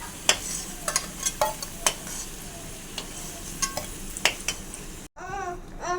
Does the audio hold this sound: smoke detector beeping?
no